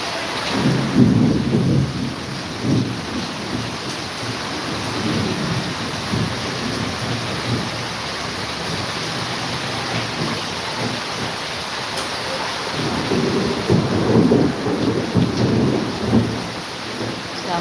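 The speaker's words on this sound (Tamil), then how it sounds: "மழை சவுண்ட் அப்படி கேட்குது" Heavy rain pours steadily on a town street throughout, with low rumbling thunder rolling in near the start and again toward the end, no voices.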